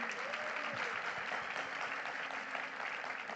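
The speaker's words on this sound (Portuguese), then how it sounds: "uma salva de palmas para a Universidade de Pernambuco" Applause from an audience at a Pernambuco technology conference stage session, a dense, steady wash of clapping that holds throughout with faint voices underneath.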